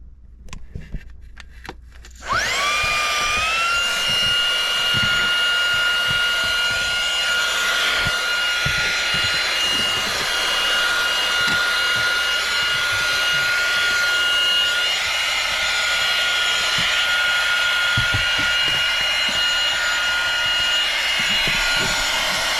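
A Seesii 3-in-1 multifunctional power tool switches on after a quiet moment, spinning up to a loud, steady high-pitched whine that runs for about twenty seconds with faint clicks beneath it.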